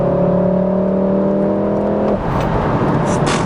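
A 2017 Volkswagen Golf 7R facelift engine revs hard and holds a loud, steady high note for about two seconds, then drops off abruptly into a rumbling idle with a rough, crackling exhaust.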